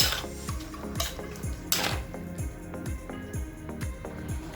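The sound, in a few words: stirring fish curry with turmeric and salt in a pot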